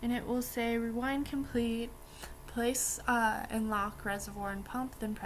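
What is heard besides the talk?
No everyday noises stand out.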